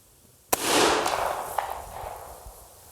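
A single sharp rifle shot with cast lead bullets at an outdoor range cracks loud and close, then its echo rolls away over the following seconds, with a few faint clicks afterward.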